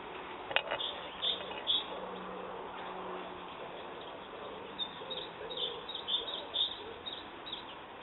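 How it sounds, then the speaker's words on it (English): Faint, repeated high chirping notes of a common chiffchaff come from the distance in a garden over a soft outdoor hiss, with rhythmic short phrases recurring throughout. "with a bit of luck you can hear the chiff-chaff"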